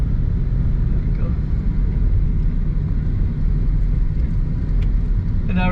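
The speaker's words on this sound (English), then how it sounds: "And now we're driving up 14th Street" A car driving north up 14th Street through Detroit's Boston Edison neighborhood, with a steady low engine and road rumble running loud and unbroken throughout.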